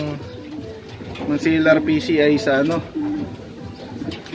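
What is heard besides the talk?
racing pigeons cooing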